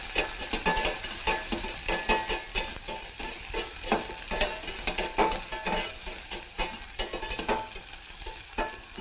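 Onion and green pepper sautéing in a pan for a steamed rice variation, with a constant sizzle broken by frequent rhythmic scraping stirs of a utensil, close and clear, with no talking.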